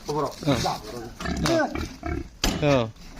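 Rough, throaty pig grunts and squeals come in several bursts, close by, with people talking over and between them.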